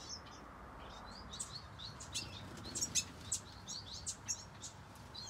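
Young bearded reedlings in a finch and softbill breeding aviary give bursts of high, thin chirps, close and fairly faint, growing busier midway over a soft ambient rustle.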